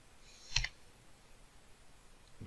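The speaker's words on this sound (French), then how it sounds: "Clique une fois dans le vide." Mouse clicks on a computer during 3D modeling, one sharp, close click followed much later by a fainter one, in a quiet room with low background hiss.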